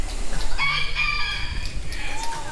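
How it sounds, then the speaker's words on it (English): A rooster on a tropical homestead crows loudly and close, a stretched harmonic call that rises and holds before trailing off, with hens clucking faintly and outdoor ambience underneath. "There's a rooster and two hens that just walk around here the whole time."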